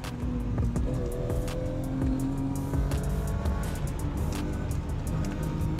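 A BMW M5 driven hard, its engine note steady and loud throughout with harmonics that rise and drop as gears change, plus occasional sharp transient bursts and no talk over it.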